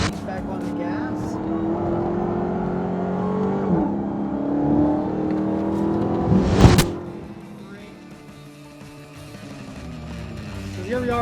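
A car accelerates hard on a racing track at a high-performance driving school. The engine roars loudly under heavy throttle, climbs to a sharp peak, then drops away into a quieter drone.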